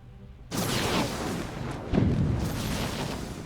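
Weapons fire from a space battle in Endless Space 2, with rockets and flak: a sudden heavy burst of blasts kicks in, then a second louder volley follows, with continuous rumbling explosions and no talking.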